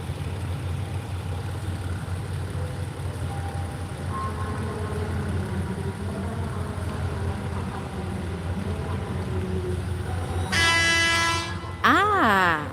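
Diesel railcars rumble steadily as they pass each other at a busy platform at Hua Lamphong station in Bangkok, then a loud two-tone horn blares near the end, followed by a rising, wavering whistle.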